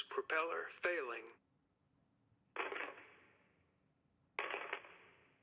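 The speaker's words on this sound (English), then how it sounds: "That was dirt being thrown on the lid of a coffin." Dirt thrown onto a coffin lid in the video game Kentucky Route Zero: two separate gritty, scattering thumps that trail off, following a brief filtered voice.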